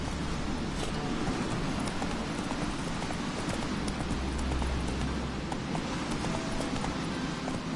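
Horse hooves trot steadily in The Witcher 3, a continuous clip-clop rhythm over a soft background wash, with no talking.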